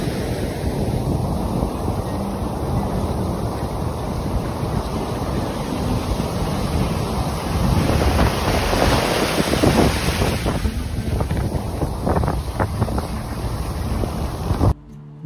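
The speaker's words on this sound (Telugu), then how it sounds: "ఇప్పుడు మనం చూస్తున్న బీచ్ పేరు కలాన్గుట్ బీచ్." Waves and strong wind at Calangute beach in Goa, a steady broadband roar of surf with wind buffeting the microphone throughout, loud and continuous until it cuts off abruptly at the end.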